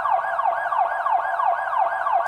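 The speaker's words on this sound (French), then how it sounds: "Le son de la sirène est tellement fort qu'il enterre même les cris" A loud siren wails in rapid repeating sweeps, rising and falling about every third of a second, steady and close throughout with no voices.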